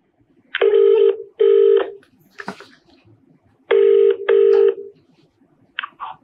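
A dialled phone number rings out through a handset: two paired ringback tones, a pause with a faint click, then two more paired tones, loud and close, followed by a brief chirp at the end.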